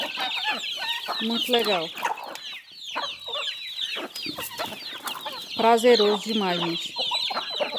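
Chickens being fed corn in the morning cluck and chatter busily nearby, a dense flock of overlapping calls rising and falling, while a person speaks briefly over them.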